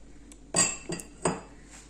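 Garlic cloves are lightly pounded for murmura chiwda, giving three sharp, close metallic knocks spaced about a third of a second apart, with no talk over them.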